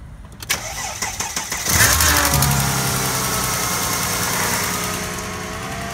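A classic car engine cranks in a few quick starter bursts, catches and fires up, then settles into a steady, slightly rough idle close by.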